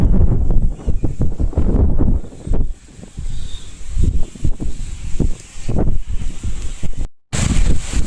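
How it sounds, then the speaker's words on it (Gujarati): A strong storm wind gusts through a village, roaring in repeated heavy buffets against the microphone with brief lulls between blasts. "તો મિત્રો ગજબનો પવન ચાલુ થઈ ગયો."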